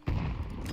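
A grenade explodes in the game Counter-Strike 2, a single heavy boom with a rumbling low tail lasting under a second, moderately loud.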